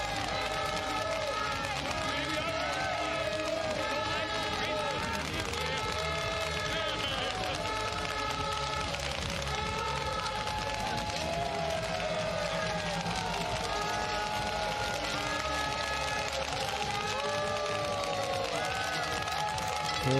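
A dense crowd of friends, family and fans at a Nordic Combined World Cup ski event in Oberstdorf applauds and cheers for an athlete, with steady loud clapping, whoops and shouts filling the air continuously, and excited voices mixed throughout.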